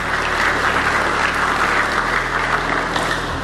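An audience at a university lecture for animal husbandry students gives a round of applause for a speaker, a dense, even clapping from many hands that stays steady from start to finish.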